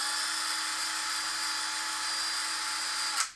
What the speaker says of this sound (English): You're gonna make the drill sound?